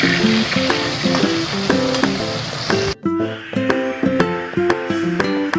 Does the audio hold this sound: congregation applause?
no